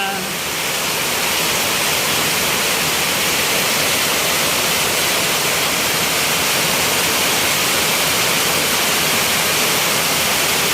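Floodwater rushes into a house during heavy rain, a loud, steady broadband roar of pouring water that holds close and unbroken throughout.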